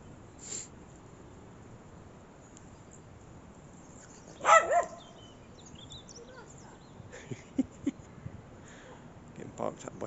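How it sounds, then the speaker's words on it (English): Dogs barking on a walk through a cemetery on a common, a short burst of barks around the middle, moderately distant, over steady outdoor background noise and faint sounds. "Getting barked at by dogs."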